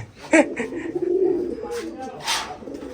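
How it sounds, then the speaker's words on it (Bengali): Soft, close pigeon cooing in a few short rounded calls, with faint background murmuring and light rustling. "এই ভিডিওতে শুধু আজকে কবুতরগুলো দেখানো হবে"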